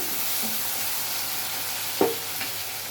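Potatoes and onions fry in a pan with a soft, steady sizzle and a brief clank of stirring partway through, close but fairly quiet.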